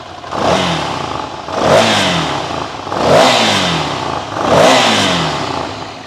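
A 2016 Ducati Scrambler Full Throttle with a two-cylinder engine revs four times in a steady rhythm, each blip rising and falling over a rough idle, loud and close, with no talking.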